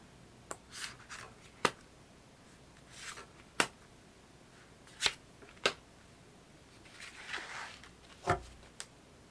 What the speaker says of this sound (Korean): 추가 카드 뽑아서 볼게요.